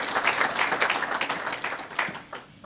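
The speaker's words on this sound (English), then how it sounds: "Let's give our honorees one more round of applause." Audience applauding Hall of Fame honorees at an inaugural university induction evening, a dense, steady wash of many hands clapping that fades slightly toward the end.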